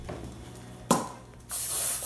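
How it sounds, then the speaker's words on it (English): A short hiss of cooking spray from an aerosol can into a casserole dish, preceded by a brief clatter, with a longer steady spray burst near the end. "make sure that you spray your casserole dish"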